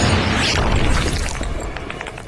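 Heavy anti-materiel rifle fire in a film, sounding as a dense, booming blast that fills the whole clip, loud and close with a rumbling low end and gradual decay.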